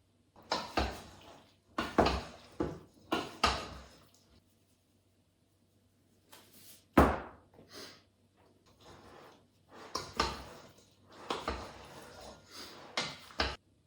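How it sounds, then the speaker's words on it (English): A spoon clinks and scrapes against a bowl while seasoning with salt, pepper and garlic powder is stirred into diced bison for stew, coming in several short bursts with quiet pauses between them. "Salt, pepper, garlic powder, a little bit at a time and stir it in."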